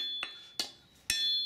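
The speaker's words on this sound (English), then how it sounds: "you're hammering," Three sharp hammer blows ring out on hot steel as a blade heel is drawn out at a forge, each a bright metallic clang spaced unevenly and close by.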